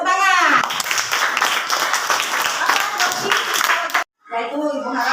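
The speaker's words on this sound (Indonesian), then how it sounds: "Ya, tepuk tangan." A group of children claps together in a quick burst, with a voice heard before and after the applause.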